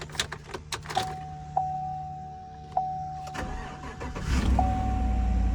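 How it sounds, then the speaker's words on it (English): A pickup truck engine cranks and catches, then settles into a low idle, preceded by clicks and a thin electronic chime. "Let's see if it starts, see how the engine sounds like."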